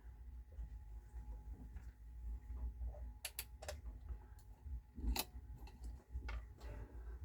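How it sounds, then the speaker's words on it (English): An NAD 5040 turntable motor spins its pulley at 45 rpm, giving a low steady mechanical hum with faint ticking, broken by a few brief sharp clicks and handling knocks close by. "we're going to do it while the motor's spinning on 45"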